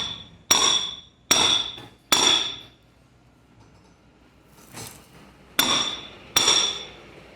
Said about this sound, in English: you can see most of that race is out now from hitting it on the floor